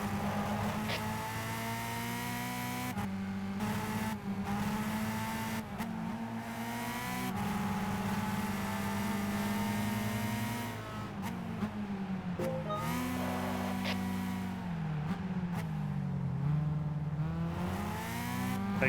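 Race cars in the Gran Turismo 5 video game drone along a wide open track, engines whining steadily and shifting pitch as they brake for turns and accelerate again, with no talk over them.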